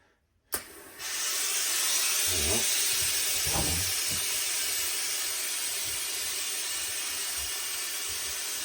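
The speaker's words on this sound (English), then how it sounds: "So we're just introducing a little bit of steam just to freshen it up." A handheld steamer bursts on and hisses a continuous jet of steam onto a Borsalino fedora hat, a sudden loud onset followed by steady close hissing with a few brief low thumps.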